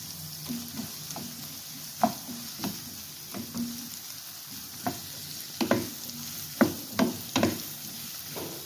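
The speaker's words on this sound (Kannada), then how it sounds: "ಕಡಿಮೆ ಉರಿಯಲ್ಲೇ ನಾನು ಫ್ರೈ ಮಾಡ್ಕೊತಾ ಇದ್ದೀನಿ" Sliced mushrooms frying in a pan over low heat: a soft, steady sizzle close by, punctuated by repeated scraping and tapping stirs of a spoon against the pan, with no talking.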